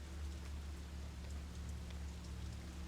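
Rain from the video game Fatal Frame 5 drums on thin window glass, a soft, steady wash of patter under a low ambient hum, fairly faint throughout.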